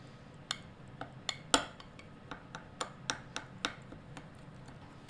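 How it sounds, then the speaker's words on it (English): A spoon stirs hummus ingredients in a container, giving a series of sharp, evenly spaced clinks and taps against the sides. The taps are close, come one after another with one louder knock, and no one speaks. "you just want to take a spoon and get in there and stir it up really well"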